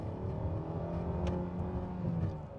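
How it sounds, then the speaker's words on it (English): A 2024 Hyundai Sonata engine is floored at full throttle, producing a steady, moderately loud drone from inside the car with no voices over it. "I can kind of mash the throttle and it does downshift, but you can hear the engine does not like to do that"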